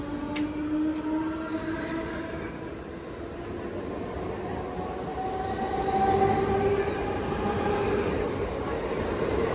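A Siemens EMU local train runs through Vidyavihar station at speed, giving a steady loud rumble with a rising electric motor whine that swells toward the end and continues unbroken.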